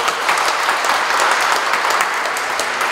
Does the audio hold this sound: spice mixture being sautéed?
no